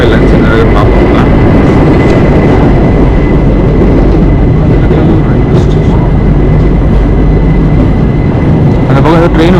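A train pulls into the platform at Guntakal railway station, a loud continuous rumble and rolling clatter that fills the whole stretch, with a steady tone and faint station noise around it.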